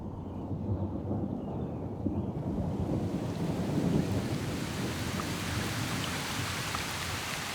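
Torrential tropical downpour with thunder on Colombia's wild coast: heavy, continuous rain roars loudly, with a deep rumble of thunder swelling in the middle, some wind buffeting the microphone, and no voices.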